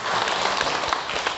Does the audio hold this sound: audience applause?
yes